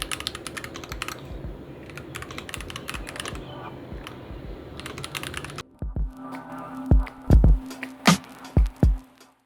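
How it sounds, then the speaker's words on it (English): Typing on a Nuphy Halo65 keyboard, first as a fast, dense run of soft clicks, then as slower, distinct, louder key presses, close and alone. "I want a keyboard that had nice feedback, but I didn't want it to be so loud."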